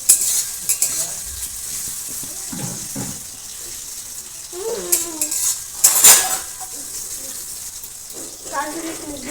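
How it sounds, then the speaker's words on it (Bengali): Payesh, a Bengali rice pudding, stirred in a pot with a metal ladle; intermittent clinks and scrapes against the pot over a low bubbling simmer, close by, with brief voices in between. "হাতা দাও, পায়েসটাকে নাড়তে হবে"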